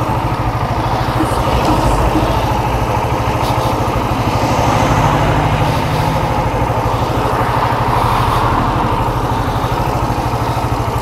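Motorcycle engines idle steadily and loudly nearby, a constant rumbling drone with no break for the whole stretch.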